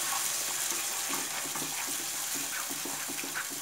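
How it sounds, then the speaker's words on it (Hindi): Tomato puree poured into spinach frying in oil over a medium flame, giving a steady, loud wet sizzle and gush that runs throughout, without speech. "अभी टोमेटो प्यूरी डालेंगे"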